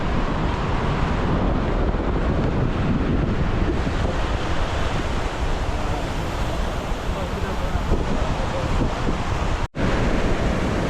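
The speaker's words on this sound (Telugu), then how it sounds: "అలలు అయితే చాలా గట్టిగా ఉన్నాయి." Strong ocean waves roar continuously up close at RK Beach, Visakhapatnam, with heavy wind buffeting the microphone throughout and no clear breaks in the surf noise.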